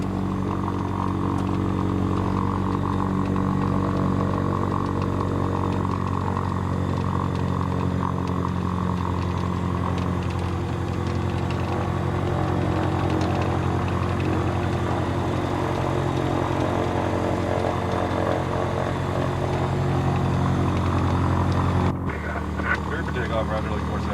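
A loud, droning seaplane engine runs steadily and close by, then cuts off abruptly near the end, leaving a quieter hum.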